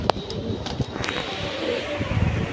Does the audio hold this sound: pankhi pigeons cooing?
yes